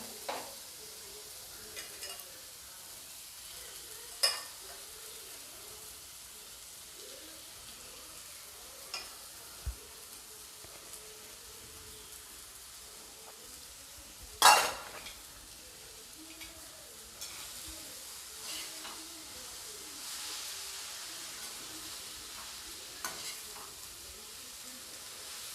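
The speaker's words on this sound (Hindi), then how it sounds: "अब मैं डाल दूंगी कटा हुआ पालक" Freshly chopped spinach stirred into cooked toor dal in a pan, giving a low steady sizzle with scattered scrapes and clinks from stirring, plus one sharp louder knock near the middle, with no talking.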